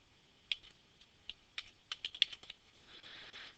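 Typing on a computer keyboard, a quiet close-up run of scattered key clicks that speeds into a quicker burst near the end.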